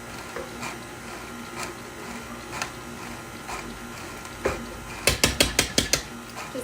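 A sifter's mechanism ratchets as gluten-free flour is fed through its chute. Sparse soft clicks and taps lead into a quick run of sharp, close clicks near the end.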